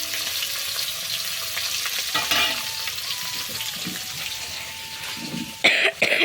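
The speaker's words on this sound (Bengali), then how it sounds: "আমি মাছ ভাজা বসিয়ে দিয়ে" Fish fries in a pan with a steady crackling sizzle, some stirring and a cough, and a louder burst of spattering near the end.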